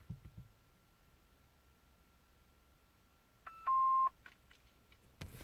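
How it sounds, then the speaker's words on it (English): Baofeng UV-5R handheld radio beeping, a short run of sharp electronic tones over a faint steady hum in a quiet room, ending with a brief click. "This is going to keep beeping at me"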